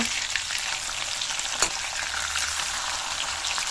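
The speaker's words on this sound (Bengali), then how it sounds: "খুব সাবধানে কিন্তু মাছগুলো ভাজতে হবে যাতে ভেঙে না যায়" Pieces of rui fish fry steadily in hot oil, a dense continuous sizzle with one brief sharp crackle near the middle and no voices.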